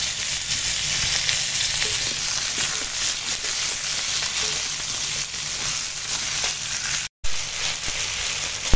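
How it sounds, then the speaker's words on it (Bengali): Ridge gourd and potato pieces tipped into hot oil with fried onion, cooked over a wood fire, give a loud, steady sizzle with faint stirring scrapes, close by and with no voices. "এবার এই একসঙ্গে কেটে রেখেছি ঝিঙে আর আলু দিয়ে দিলাম"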